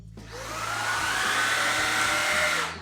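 A Shark IZ251UKT cordless vacuum cleaner runs in carpet mode, giving a steady, loud motor whine and airflow rush that starts up, holds evenly for a few seconds, then fades at the end.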